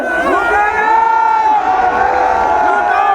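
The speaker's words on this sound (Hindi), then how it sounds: "आप दर्शक अपनी उपस्थिति हूटिंग के साथ दर्ज कराएं" Large outdoor crowd at a public event with the Uttarakhand Chief Minister, sustained cheering and hooting, loud and continuous, with shouts and whoops rising over a steady roar.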